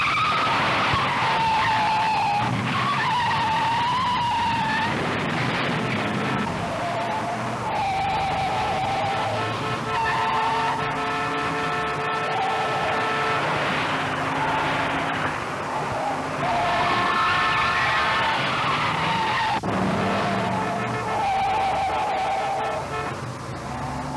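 A 1973 Pontiac Le Mans is driven hard in a stunt chase, its tires squealing and skidding in long, loud screeches that rise and fade repeatedly over the running engine.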